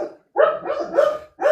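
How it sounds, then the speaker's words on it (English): A dog barks loudly and close by, a quick run of three or four sharp barks with brief gaps between them. "sorry about my dog."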